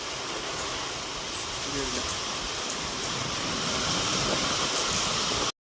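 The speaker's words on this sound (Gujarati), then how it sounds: "ફાઇનલી મિત્રો અત્યારે થોડોક વરસાદ રહ્યો છે" Steady rain falling over a village farm, a dense continuous hiss of moderate loudness that holds evenly throughout with no break.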